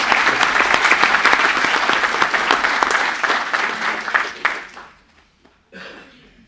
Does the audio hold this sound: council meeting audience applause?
yes